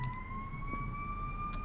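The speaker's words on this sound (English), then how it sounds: "But, siren again." An emergency vehicle siren wails faintly in the distance as a steady sustained tone, slowly shifting pitch over a low background rumble with no speech.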